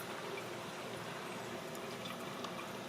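A small potted topiary held fully submerged in a tub of water to soak before replanting, giving a steady, soft wash of gurgling water and bubbling close by, with no voices.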